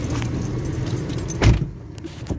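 Car keys jangle close up over a faint background hum. The metallic clinking is brief and ends with one sharper clink.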